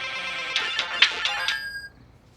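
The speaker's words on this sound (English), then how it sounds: "That's the sound it makes when I get a work email." A phone notification for an incoming work email rings out as a short bright melodic chime of about five quick tones. The last tone rings on and fades into near silence.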